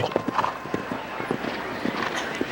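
Horse hooves during a show jumping round at an outdoor equestrian event, a steady series of clip-clopping strikes at moderate distance with faint background noise.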